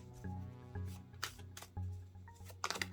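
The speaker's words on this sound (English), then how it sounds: "overhand shuffle here." Quick overhand shuffles of tarot cards in several short bursts over a low steady hum, close by and fairly quiet.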